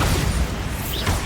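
A Bombarda spell explodes in Hogwarts Legacy as a dense, sustained roar of blast noise, loud and close, filling the whole moment with rumbling low end and hissing debris.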